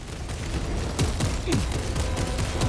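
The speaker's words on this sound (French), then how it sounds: "Oh, il nous tire dessus." Enemy gunfire in Warhammer 40K Space Marine 2: a rapid irregular series of sharp shots and impacts, several bursts in quick succession over dense, loud combat noise.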